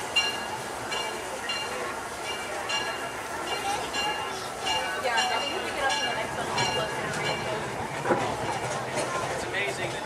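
A Disneyland Railroad steam train at Main Street Station runs with a steady rumble and faint rhythmic clacking and clinking, while people talk nearby throughout.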